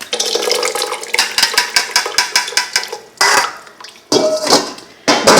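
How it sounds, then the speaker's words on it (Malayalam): Apple pulp pressed through a small sieve, then juice knocked and tipped from it into another kitchen vessel. Close, repeated ticking and clinking settles into sharp metallic knocks and a few louder bursts of rattling and pouring, with no voice. "ഇങ്ങനെ ഞെക്കി സ്ക്വീസ് ഔട്ട് ചെയ്യേണ്ടി ആവശ്യം വരുന്നുണ്ട്. നമ്മൾ വേറെ പാത്രം വെച്ച് അതിലേക്ക് കൊട്ടുകയാണ്."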